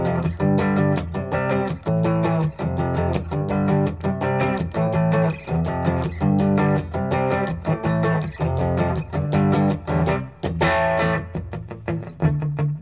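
A distorted electric guitar plays a new section of a song, chugging through driving power-chord rhythms with a short break near the end, loud and alone.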